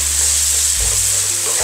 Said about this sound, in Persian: حالا اینا رو با هم مخلوط کنید تا مواد کاملا به خورده هم برن.